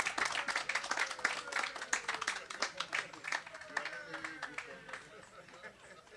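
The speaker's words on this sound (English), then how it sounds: "please round of applause for her" An audience claps at an official handover ceremony for the Saint Lucia Racer Facility: a dense patter of many hands, steady and fairly loud, thinning slightly toward the end, with some voices mixed in.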